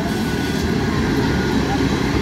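An up local train runs along the main line toward Bandel Railway Junction, giving a loud, steady, unbroken rumble of wheels and carriages throughout.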